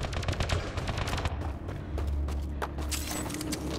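Rapid bursts of automatic gunfire from a Mass Effect: Andromeda firefight, dense overlapping shots with heavy low booms, loud and continuous with a brief lull before renewed volleys.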